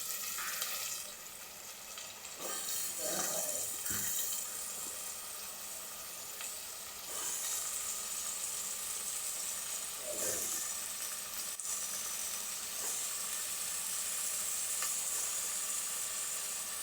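Bitter gourd pieces frying in hot oil with turmeric for a curry, heard as a steady, close hiss with a few brief scraping stirs, no voices.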